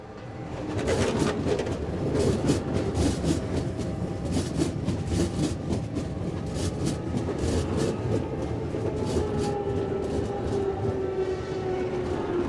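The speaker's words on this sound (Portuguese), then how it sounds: "o trem passou." A train rumbles past alone, a loud sustained roar with rhythmic clacking of wheels over rail joints and a faint tonal squeal, building quickly and holding steady throughout.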